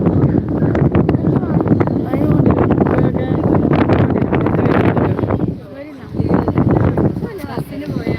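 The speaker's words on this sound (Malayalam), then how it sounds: "കാറ്റ് കാറ്റിങ്ങനെ ഒരമ്പി വരുന്ന സൗണ്ട് ഉണ്ട്" Strong wind buffets the microphone at a hill viewpoint, a continuous roaring rush that briefly dips before returning, with people talking over it.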